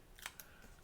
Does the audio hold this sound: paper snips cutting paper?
yes